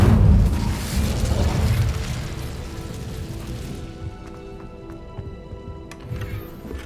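In Hogwarts Legacy, casting the Incendio fire spell releases a loud, roaring burst of flame. The whoosh trails off into a lower, steadier rumble under a faint tonal game hum.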